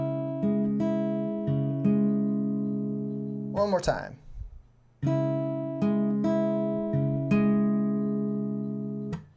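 Acoustic or electric guitar playing a riff in a simple arrangement, sustained plucked notes in a steady rhythm, briefly broken by a short spoken phrase before the melody resumes.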